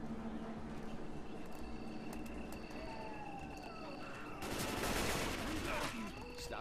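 Gunfire in the video game Left 4 Dead 2 during a custom Resident Evil campaign, faint rapid shots under a low background drone, building to a denser burst of fire near the end.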